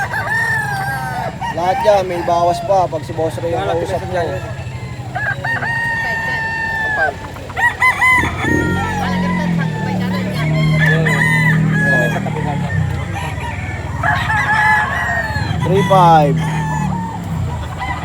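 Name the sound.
gamecocks crowing and clucking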